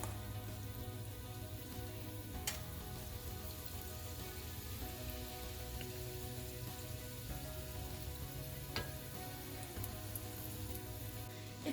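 Samosas fry gently in oil on low heat, a steady soft crackling sizzle that runs evenly throughout with a few faint clinks, no talking.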